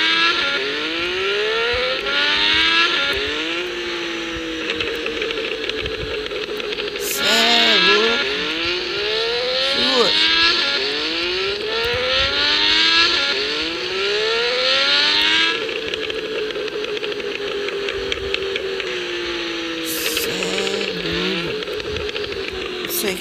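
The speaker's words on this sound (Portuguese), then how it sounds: "Dá uma aceleradora agora," A Triumph Tiger motorcycle with a large exhaust revs repeatedly close by, engine pitch sweeping up and down in bursts with popping backfires, a voice occasionally speaking over it.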